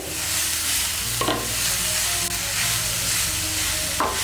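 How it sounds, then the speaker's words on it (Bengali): Chunks of shola kochu (taro) are stirred through hot oil in a pan for a Bengali vaji, giving a steady close sizzle with a couple of scraping spoon strokes and no talk. "কচুগুলোকে ভালো করে মিশিয়ে নেব তেলের সঙ্গে।"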